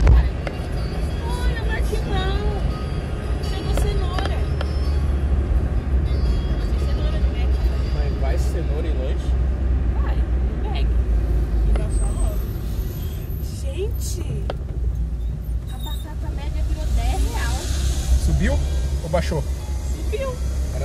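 A truck's engine drones ahead on the road, heard from a motorcycle as a steady low rumble mixed with wind and traffic noise, while a rider talks over it.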